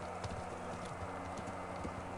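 Horse hooves clip-clopping at a steady walking rhythm in the video game Kingdom Come Deliverance, fairly quiet with a low background tone.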